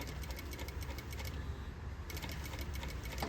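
Domestic sewing machine running a bias bound Hong Kong seam, a steady close mechanical whir with rapid needle ticking that pauses briefly midway and then resumes at the same pace.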